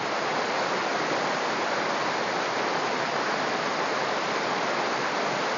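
Nawidwid Falls pours in a steady, dense roar of rushing water that stays even and unbroken from start to finish, with no other sounds rising above it.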